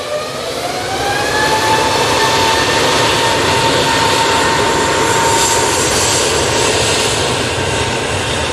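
A Juneyao Airlines airliner from Shanghai touches down at Manchester Airport, a loud, close, continuous jet roar with a falling engine whine and broadband rumble that swells and holds as it rolls out.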